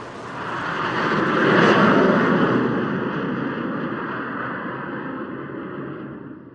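Fighter jets roar past at a military air show closing an Arab joint exercise, a broad sustained engine rumble that swells to a peak and then slowly fades while staying loud throughout.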